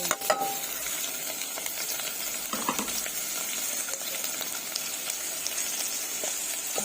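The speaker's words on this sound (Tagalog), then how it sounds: "Ilagay na natin yung chicken." Chicken fillet frying with onion in a pan, a close, continuous sizzle broken by clinks and scrapes of stirring, with no talk.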